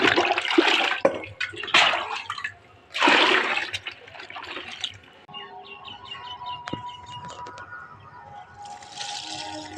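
Liquid fertilizer water gushes onto potted plants in a rooftop garden in several strong, splashing pours over the first few seconds, then fades to softer trickling with birds chirping nearby.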